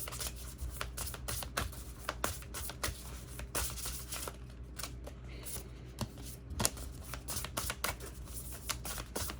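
Tarot cards are drawn and shuffled from a deck, giving close, quiet papery riffles, rubs and flicks in an irregular run of soft taps with no talking.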